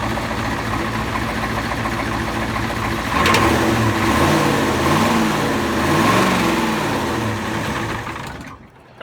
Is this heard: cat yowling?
no